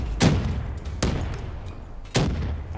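Three sharp booming grenade blasts in a video game, evenly spaced about a second apart, each a sudden burst that fades into a low rumble.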